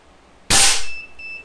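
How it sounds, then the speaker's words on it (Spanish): A single sharp, loud crack of an air rifle pellet shot fired over a chronograph, with a brief metallic ring fading after it, over quiet background. "Voy a hacer el primer disparo, a ver qué tal."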